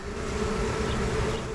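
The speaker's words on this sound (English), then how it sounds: "These bees are extremely hot." Honeybees buzzing while being moved from a swarm box into a hive, a continuous dense drone close by, steady and fairly loud with no voices.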